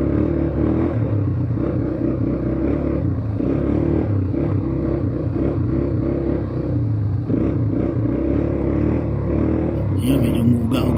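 An ATV engine runs steadily during a ride at an adventure park in San Mateo, Rizal, making a constant, close rumbling drone with slight rattles. A voice may sit faintly under the engine noise.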